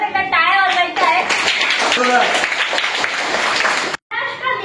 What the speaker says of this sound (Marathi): त्यासाठी परत एकदा टाळ्या वाजवायच्या आहेत।